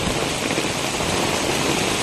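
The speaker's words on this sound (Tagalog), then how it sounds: "Sobrang lakas ng ulan." Heavy rain pours during Typhoon Enteng, a dense, steady hiss filling the whole stretch without pause, loud and close with no voices.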